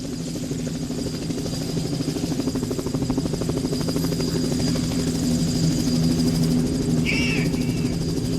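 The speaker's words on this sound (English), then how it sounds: "Helicopter." A steady helicopter drone hums with a rapid pulsing rotor beat, holding a constant level throughout, with a brief high chirp near the end.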